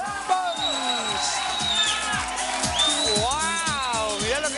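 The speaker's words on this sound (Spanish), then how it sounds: "Un aplauso muy grande para la señora Norma Pons." A studio audience on an Argentine TV comedy show breaks into loud, sustained applause mixed with cheering and whoops, with a steady wash of clapping running throughout.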